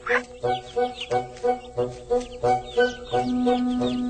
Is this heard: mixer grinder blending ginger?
no